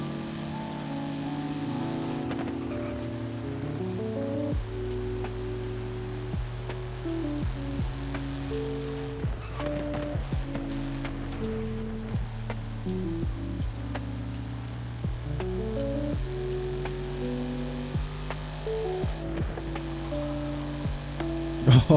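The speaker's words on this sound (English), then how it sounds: "The tires just doing everything to keep traction, and they're really succeeding." Tires of an Audi RS-7R in Forza Horizon 5 straining for grip on all-wheel drive, a steady engine drone with stepping gear-shift tones and a continuous low rumble, loud and close throughout.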